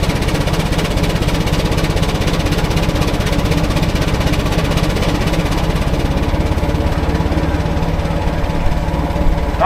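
A Gaar Scott 25-75 steam traction engine runs on a prony brake under light load, giving a loud, close, steady and rapid rhythmic chuffing with mechanical knocking throughout, with no talk.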